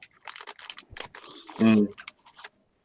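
Rapid, irregular clicking of keys on a computer keyboard, close by, with a brief louder burst partway through.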